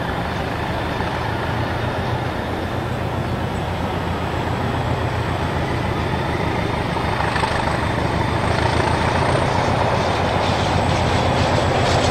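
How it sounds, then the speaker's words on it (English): Diesel locomotive D8007 hauls a mixed freight and passenger train on the GC North line, a loud, steady engine roar with rumbling wagons, unbroken throughout. "A Chinese style mixed freight and passenger behind D8007 on the GC North"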